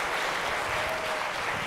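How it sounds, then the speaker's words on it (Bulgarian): A theatre audience at a comedy show claps for comedian Slavi Slavchev, a short, dense burst of applause filling the room. "Вашите аплодисменти за Слави Славчеве!"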